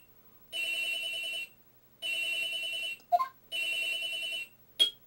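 Cell phone ringing in the Phoenix Wright: Trials and Tribulations game, three loud evenly spaced electronic ring bursts, with short chirping blips between and after them, no talking.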